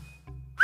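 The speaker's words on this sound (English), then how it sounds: "I'll whistle." A short rising whistle rings out clearly toward the end, preceded by faint tonal bits over a low steady hum, as a person whistles in a graveyard in a fantasy horror game.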